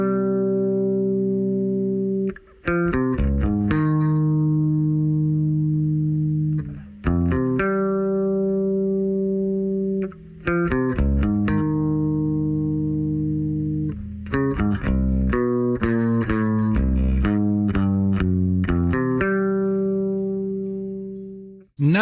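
Isolated bass guitar line: sustained, steady low notes moving through a repeating progression with brief breaks between phrases, clear and up front with no other instruments.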